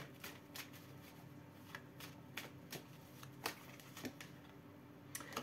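Tarot cards being drawn and handled on a table: a quiet, close series of crisp flicks and light slaps at irregular intervals, with no talking and a faint room hum beneath.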